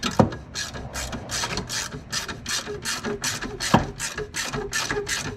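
A ratchet wrench tightens the 12-volt battery terminal on a Toyota Prius, giving a steady run of rapid, close pawl clicks in even strokes with a couple of louder metallic knocks.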